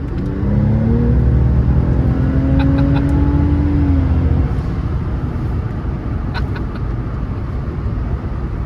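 A Ford Raptor truck goes to full throttle, its engine a loud, close roar that climbs in pitch with gear changes before settling into a steady rumble.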